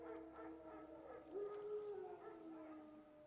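Wild dogs howl in The Witcher 3, a rising and falling tonal howl that swells near the middle before fading, heard at moderate distance over a quiet forest ambience.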